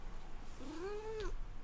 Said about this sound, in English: She did kind of meow just a little bit there.